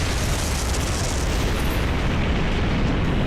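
A massive explosive blast from Gawain swinging the sword Galantine in the Fate/Grand Order game, a dense, continuous roaring boom that fills the whole stretch at steady loudness.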